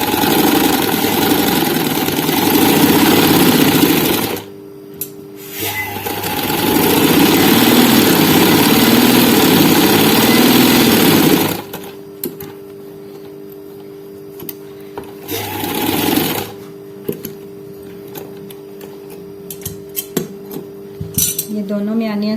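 Sewing machine stitching cloth seams with a 0.5 allowance while making a jangia: loud, close motor runs in two long bursts and one short burst, separated by quiet pauses, with no talking.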